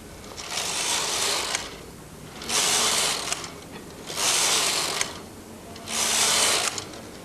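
A Brother knitting machine carriage makes four passes across the bed. Each pass is a loud, rasping mechanical clatter lasting over a second, separated by short quieter pauses, with no talk.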